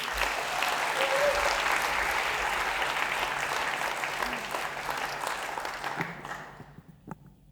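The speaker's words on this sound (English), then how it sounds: "I wonder if you'll all put your hands together and give a massive round of applause for Mumtaz Ali" An audience at an evening poetry event at the Bradford Literature Festival gives Mumtaz Ali a big round of applause, loud and dense at first, then thinning to a few last claps before fading out.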